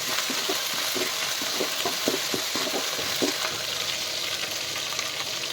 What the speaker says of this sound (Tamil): கருவேப்பிலையும் போட்டு நல்லா வதக்கி விட்டுக்கோங்க.